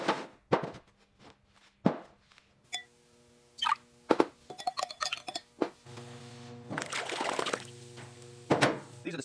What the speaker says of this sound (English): It includes the clanging and clinking of metal parts being handled,